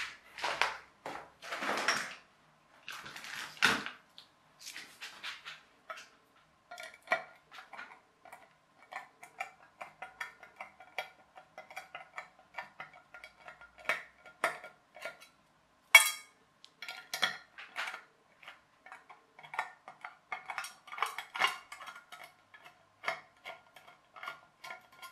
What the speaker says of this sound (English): I could unscrew those screws and we could have a look at the mechanism